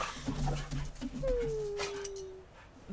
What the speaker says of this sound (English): My dogs play intensely,